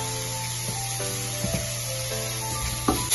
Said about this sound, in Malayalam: നല്ലൊന്ന് സോട്ടേ ചെയ്യുക